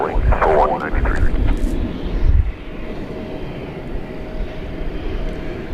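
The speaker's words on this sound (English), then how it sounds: "This plane looks like it'll make the turn and head off to Louisville." A plane taxis at DFW Airport, its steady engine rumble and whine holding near and loud throughout, with a brief louder surge early on and no talk.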